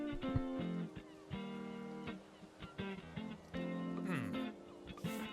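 Goose-like honks from the video game Tiny Bookshop sound in a string of short, tonal, nasal calls with small gaps between them, fairly quiet, with no talking over them.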